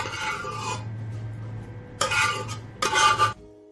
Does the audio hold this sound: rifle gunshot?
no